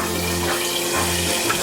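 Steady water running from a kitchen tap while homemade Somali pasta is being cooked, a continuous close rushing splash heard alone.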